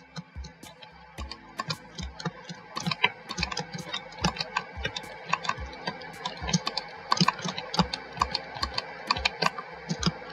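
Rapid clicking from a mouse and keyboard during Roblox play, with a dense, uneven stream of sharp, close taps and clicks throughout, no talking.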